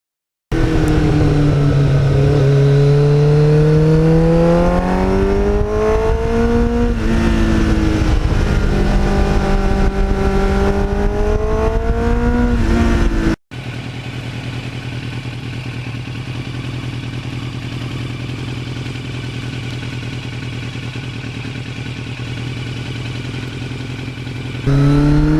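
Kawasaki Ninja motorcycle with a Muzzy exhaust revving loud and close, with sweeping rises and falls in pitch like a race car. Partway through it stops and gives way to a steady, lower engine drone that holds to the end.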